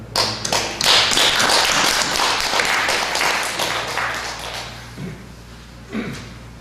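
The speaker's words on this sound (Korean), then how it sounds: "박수 한번 드릴까요?" Loud, dense applause from a church congregation, a steady wash of clapping that thins out toward the end, with a few scattered final claps.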